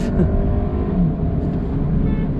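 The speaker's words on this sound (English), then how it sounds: "show you the acceleration of the Tiguan Allspace right from here" A Volkswagen Tiguan Allspace pulls hard on the Mumbai-Pune Expressway, its engine a loud, steady drone heard from inside the cabin, rising slightly in pitch with no voices.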